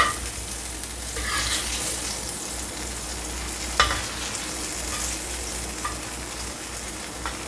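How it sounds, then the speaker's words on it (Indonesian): Terasi shrimp paste sizzles in a hot frying pan, a steady close crackle with occasional stirring clicks and no talking. "Nah ini terasinya dibakar sekalian, goreng sekalian, tambah mendem."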